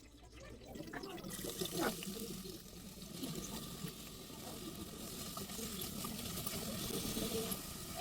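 Onions dropped into hot oil while cooking dal start a soft hiss after a quiet moment. The frying sizzle builds gradually and stays fairly faint under a speaking voice.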